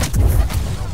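Rocket fired at the player in Star Wars Jedi: Fallen Order, a short loud booming blast with a deep rumbling low end, close and abrupt, lasting under a second.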